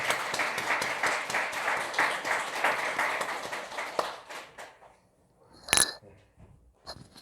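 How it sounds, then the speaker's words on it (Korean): A church congregation at a year-end Sunday service applauds its elders, a moderate wash of many hands clapping that tapers off after about four seconds, followed by quiet and a single bright metallic clink. "우리 또 미리 같이 박수로 다시 한 번 더 감사와 공헌을 하겠습니다"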